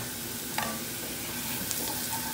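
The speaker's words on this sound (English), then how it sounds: "So we're just gonna kinda stir that around and let it get a little incorporated" Arrowroot powder roux stirred in a hot pan for low-carb chicken and dumplings, with a soft, steady sizzle and a few light scraping clicks from the utensil, close and alone.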